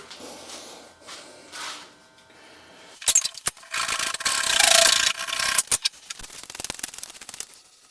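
A handsaw rasps through a wooden slingshot handle in uneven strokes, starting quietly and then growing into louder, scratchy back-and-forth cutting close by.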